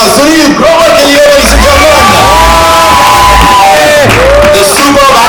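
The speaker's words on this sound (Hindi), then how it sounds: "तो यहाँ पे जोरदार तालियां" Crowd at a trailer launch event cheering, whooping and shouting loudly and continuously, with a host's voice speaking over the din.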